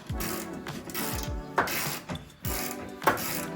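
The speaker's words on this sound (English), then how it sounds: "And then we will nip that up with a ratchet as well." A hand ratchet clicks rapidly as it tightens a 15mm bolt on a lower suspension arm during a Ford Fiesta ST to RS conversion, in several quick close bursts of clicks separated by brief resets, with no talking.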